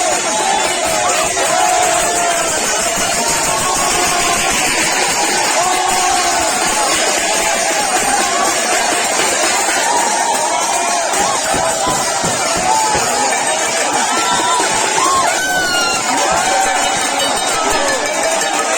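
Protesting job candidates in Prayagraj clap and beat metal plates amid a dense, continuous crowd din, with rhythmic clanging and shouting mixed into steady loud hubbub.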